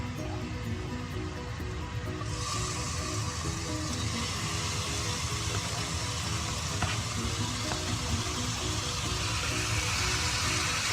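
Chicken sizzling in a pan coated with a few sprays of oil, a dense steady hiss and crackle that stays loud and continuous throughout.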